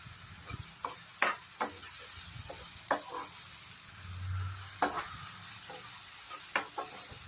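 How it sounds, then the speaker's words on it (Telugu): Curry leaves fry in a pan, where a soft continuous sizzle sits under repeated close stirring scrapes of a spoon, about one stroke a second, with no voices. "కొద్దిగా కరివేపాకు వేసుకొని కలుపుకోవాలి."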